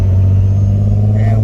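Right-hand drive car cruising along a road, a steady loud low engine and road drone filling the cabin without break.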